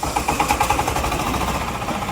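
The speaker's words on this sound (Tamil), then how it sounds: "இந்த மெஷின்ல பேட்டரி, செல்ஃப் ஸ்டார்ட் வசதியோட கூடிய டீசல் என்ஜின் இருக்கு." Diesel engine with battery self-start, running on a fly ash brick-making machine, gives a loud, steady, rhythmic chugging and rattling throughout with no talking.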